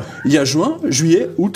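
A pet cat meows several times in a drawn-out, wavering way, close and fairly loud, overlapping someone speaking French in an indoor setting.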